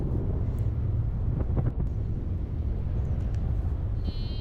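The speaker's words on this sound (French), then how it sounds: "je vois que j'ai bien un vent d'ouest qui me pousse" Steady wind rushes loudly over the microphone as a paraglider approaches a landing field in a west wind, a continuous buffeting roar with faint ticks and a brief high tone near the end.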